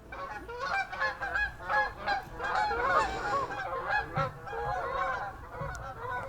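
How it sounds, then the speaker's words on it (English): Canada geese honk repeatedly in a busy flock chorus, overlapping calls rising and falling steadily over several seconds, fairly near and clear with no talk. "Ah, you hear that? The Canadian geese making a cameo."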